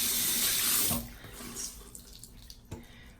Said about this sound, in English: Now let's just rinse it out.